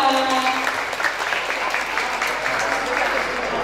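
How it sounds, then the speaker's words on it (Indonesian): Audience applause at a vocational school event for a traditional gamelan music (karawitan) skills exam at SMK Negeri 7 Padang, a steady dense clapping from a crowd throughout, fairly loud. "Tepuk tangan untuk kita semua."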